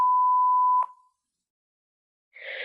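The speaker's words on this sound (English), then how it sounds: "Please leave a message after the beep." A single answering machine beep sounds as a clean steady tone lasting nearly a second, followed by silence and then a voice starting to speak.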